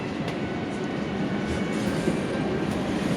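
A Kolkata metro train running toward New Garia, heard from inside as a steady, loud rumble of wheels on rails with faint clicking, continuous throughout.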